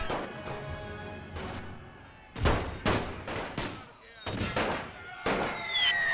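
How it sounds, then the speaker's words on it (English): An artillery shell explodes amid battle in a World War I video game, part of a string of loud, booming blasts and cracks spaced irregularly over several seconds. "An artillery shell landed right on him, detonating him like a bomb."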